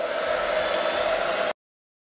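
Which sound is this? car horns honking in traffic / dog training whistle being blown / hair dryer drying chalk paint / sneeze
hair dryer drying chalk paint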